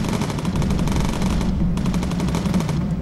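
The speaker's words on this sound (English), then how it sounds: "Oh, that is a low-level flak" Sustained anti-aircraft flak fire in Bomber Crew, a dense rapid rattle of bursts rolling on without pause, loud and close over a low engine drone, with no voices.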